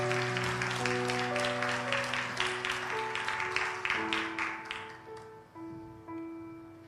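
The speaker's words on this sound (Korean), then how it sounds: "큰 박수로 맞이해 주시기 바랍니다" A church congregation at a Sunday afternoon worship service applauds, brisk clapping that fades out after about five seconds while sustained keyboard chords keep playing.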